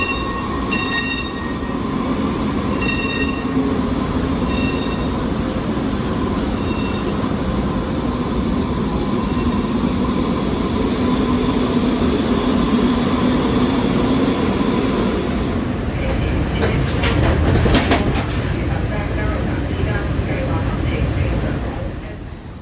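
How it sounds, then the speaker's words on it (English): A 1996-era Breda LRV light rail car on the Muni Metro N-Judah line rumbles steadily through a San Francisco subway tunnel, loud and continuous, with wheel squeal rising near the end. "This time, we got an older train. It's an LRV 2 or 3, built by Italian company Breda starting in"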